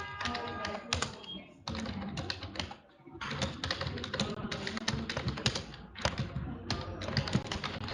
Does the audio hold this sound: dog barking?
no